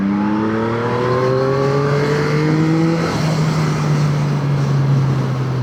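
Yamaha MT-09 Y-AMT motorcycle engine accelerating, a loud close steady drone whose pitch climbs smoothly, dips briefly partway through, then carries on rising at a high pitch with no talking.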